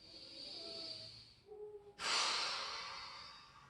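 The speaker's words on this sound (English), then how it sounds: "Big breath in, and exhale through the mouth." A deep breath is drawn in, a short pause follows, then a loud, airy exhale through the mouth trails off slowly, close and clear in a quiet room.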